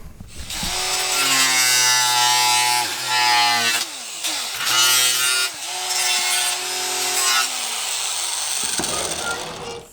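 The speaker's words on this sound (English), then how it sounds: "So I'm going to trim that down as nice as I can" Plastic edge of an aftermarket GK Tech mirror for an AE86 being trimmed down, a loud continuous rasping, sawing scrape with a steady whine that pauses briefly a few times before cutting off near the end.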